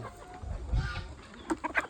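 Desi village chickens cluck nearby, a few short clucks bunched together toward the end over a low background rumble.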